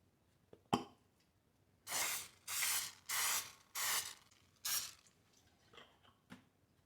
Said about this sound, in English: coat with non-stick cooking spray or oil